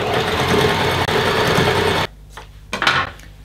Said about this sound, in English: And then you've got to sew up the other side.